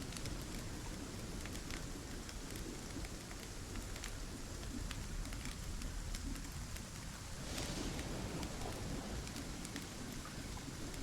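Steady rain pours in the survival video game ASKA, a dense, constant hiss of drops on surfaces with no break.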